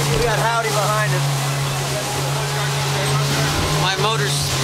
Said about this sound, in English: My motor's sputtering.